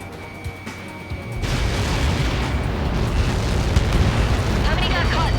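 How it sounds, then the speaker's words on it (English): A massive projectile impact explodes in the Ace Combat 7 flight game, a sudden heavy boom that swells into a sustained rumbling roar, loud and close, with radio chatter over it. "How many got caught in that explosion?"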